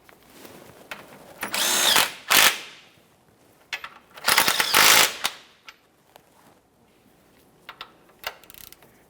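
A power tool snugs the lower control arm bolts on a 2010-2013 Kia Forte Koup, with two loud close bursts of whirring and ratcheting, then scattered short clicks and taps of the tool.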